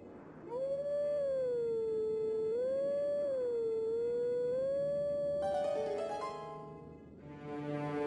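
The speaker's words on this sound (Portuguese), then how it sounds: "Ok, vamos uivar novamente." A wolf howls in the video game Zelda Twilight Princess, a long sustained tonal howl that wavers up and down in pitch, loud and close, followed by brighter harmonic game tones near the end, with no talking.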